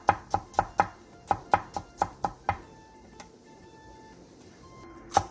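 A knife chops green and red chili peppers on a board after they are split lengthwise, in a quick run of about ten crisp, evenly spaced strokes, then a pause with faint tones and one last sharp chop.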